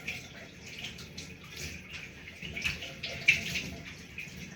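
Water runs steadily into a bathtub while a dog is bathed and shampooed, a continuous moderate hiss and splash with small irregular splashes throughout.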